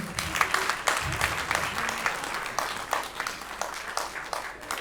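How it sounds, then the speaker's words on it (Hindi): A crowd applauds steadily, dense clapping filling the space for several seconds without pause, fairly loud and sustained. "एक बार जोरदार तालियां।"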